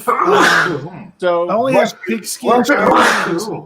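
A person sneezes loudly at close range during a late-night drinking session, one burst followed by more sneezy gasps, with people talking in between.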